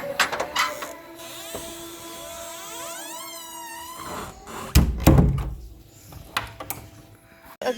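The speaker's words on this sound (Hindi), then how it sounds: "दरवाज़ा मैं बंद कर लूँ यहाँ से।" A house door is pulled shut at dawn during rain, landing as a loud close thunk with a rattle partway through, while a distant siren-like wail rises and falls in the background.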